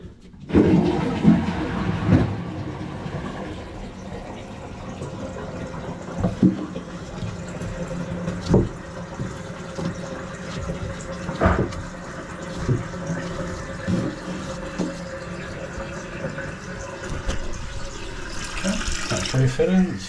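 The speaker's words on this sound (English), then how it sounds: "That's refilling, it's flushed." A toilet in a newly renovated understairs bathroom of a 1930s house flushes, then its cistern refills with a steady, moderately loud rush of water for about twenty seconds. No voices are heard.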